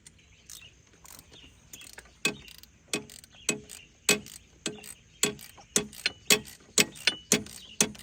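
A ratchet wrench clicks in a series of sharp, close ticks while tightening a bolt on a 2003 Subaru Outback during a power steering pump replacement, the strokes growing quicker and steadier toward the end.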